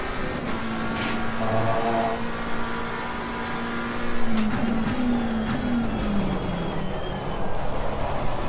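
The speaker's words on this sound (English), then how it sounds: "I do like the rasp from this engine." Loud raspy engine of a McLaren 720S lapping Kyalami in Assetto Corsa Competizione, holding a steady high drone, then pitching down as the car slows, with faint tire noise and no talking.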